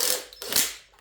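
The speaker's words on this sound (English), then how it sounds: "I'm going to take them down just to snug." Ratchet snugging cylinder head stud nuts on a C5 Corvette LS6 engine, a short burst of close metallic clicking and creaking from the pawl, heard alone.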